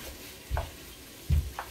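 Sausage in a pan for Cajun dirty rice, faintly sizzling while a utensil breaks it up, with two soft thuds of stirring and scraping over a low background.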